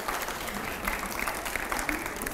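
Studio audience at a televised panel discussion with Mahmood Asad Madani and five editors breaks into applause, a loud, continuous ripple of clapping with faint crowd murmur underneath throughout the short burst.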